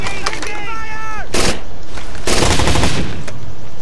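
Automatic gunfire in Rainbow Six: Vegas 2, with two loud, dense bursts of rapid shots around a brief musical or tonal game cue.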